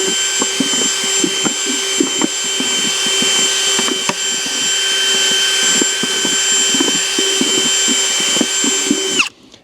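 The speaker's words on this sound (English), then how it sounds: "I use a drill." An electric drill runs at a steady high whine, close and loud, while it bores a rapid series of holes through a plastic container, each hole marked by a short crunching bite, before the motor spins down at the end.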